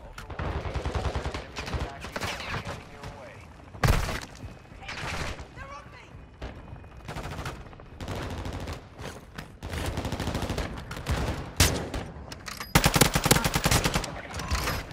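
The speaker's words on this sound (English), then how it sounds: "I see gunshots in there." Rapid gunfire from the Call of Duty DMZ video game on Ashika Island, bursts of shots cracking repeatedly through the clip with a few louder bangs, mixed with game ambience.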